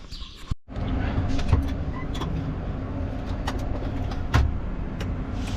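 A Case tractor drives with a steady, close engine drone from inside the cab, with a sharp knock near the start and occasional clicks; a voice speaks briefly.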